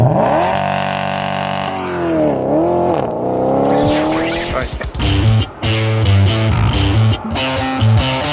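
A 2013 Nissan Pathfinder accelerates hard from 0 to 60 mph at a mile above sea level, engine revving upward through a gear shift, then loud tire squeal and rhythmic pulsing noise close by, with no talk.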